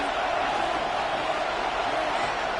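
A football stadium crowd roars steadily on its feet for a third-and-four play, a dense, continuous wash of cheering that holds at an even level throughout with no single voice standing out.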